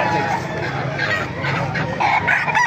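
Several roosters crow loudly and close by at a market in Baliuag, with hens clucking around them and a faint voice in the background.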